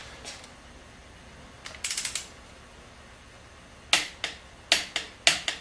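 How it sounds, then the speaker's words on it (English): A ratchet tightens an oil pump on a 350 small-block Chevy engine, sounding as short bursts of rapid clicks followed by several sharp, separate ratcheting strokes, close and clear in a quiet shop. "We're going to tighten this oil pump to 45 foot-pounds."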